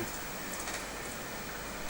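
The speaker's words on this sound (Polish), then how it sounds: "Deszcz pada" Steady rain falling near a balcony, a constant soft hiss of drops filling the background evenly throughout, with no voices.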